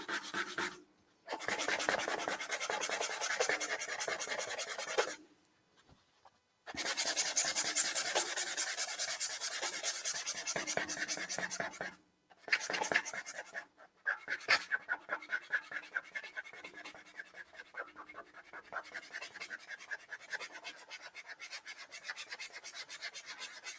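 Sandpaper rubs back and forth over a lacquer finish on wood, steady close scratching strokes in long bursts separated by brief pauses, then quicker rhythmic rasping, with no talking.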